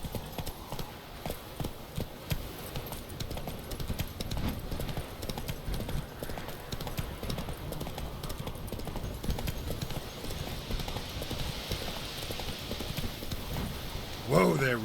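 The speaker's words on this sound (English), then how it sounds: "Whoa there, Roach" Horse hooves clip-clop in a steady walking rhythm in the video game The Witcher 3, close and continuous, with a faint whinny and a voice speaking near the end.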